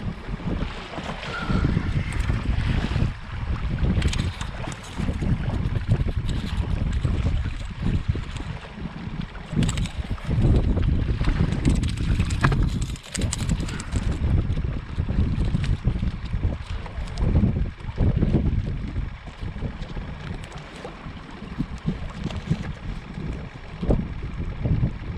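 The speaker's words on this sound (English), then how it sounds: "I hope that aerator noise isn't too bad" A livewell aerator pump hums continuously aboard a fishing kayak out on the water, its drone partly buried under gusty wind buffeting and sloshing water, with bumps and knocks throughout.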